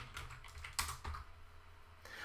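Someone types on a computer keyboard while coding, giving a short, quiet burst of irregular key clicks with a couple of sharper taps, heard close up with no speech.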